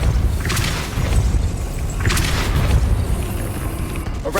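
Depulso spell cast in the Hogwarts Legacy video game, Ravenclaw character: a few forceful whooshing bursts with thumping impacts, fairly loud over ambient game noise.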